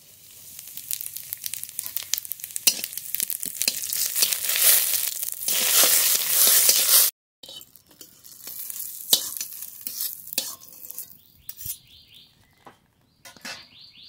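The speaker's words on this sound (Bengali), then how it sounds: "অল্প তেল দিয়ে কটা জিরে ভেজে তুলে নেব।" A few cumin seeds sizzle and crackle in a little hot oil and are stirred, the frying loud for about seven seconds, then only scattered clicks and scrapes follow in near silence.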